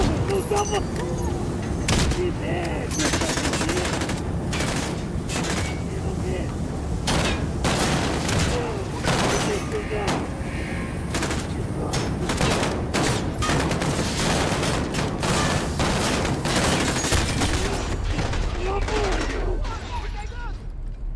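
Rapid bursts of rifle gunfire crackle and boom almost continuously in a dense, loud battle soundscape in Call of Duty: WWII on realistic difficulty, with voices mixed in.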